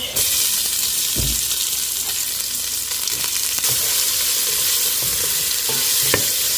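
Chopped onions with ginger are stirred in a hot pan for kadhi, giving a steady, close sizzle with a few scraping knocks from the spoon and no voices.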